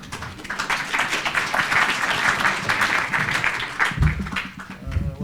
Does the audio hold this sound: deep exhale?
no